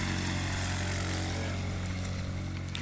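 A model airplane engine runs at a steady high-pitched buzz, loud and close, holding an even drone for the whole moment.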